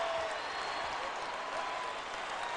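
Basketball arena crowd applauding and cheering after Kobe Bryant's free throw, a dense steady roar of clapping and voices filling the space for a couple of seconds.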